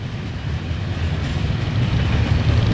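A northbound Norfolk Southern coal train passing in Marion, Ohio, gives a steady, loud, close rumble of rolling cars. It grows slightly heavier over the clip, with no voices.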